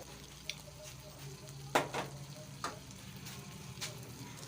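Peas being stirred into a frying mutton masala for matar gosht, with a soft sizzle under scraping spoon strokes and a few sharper knocks against the pot, fairly quiet.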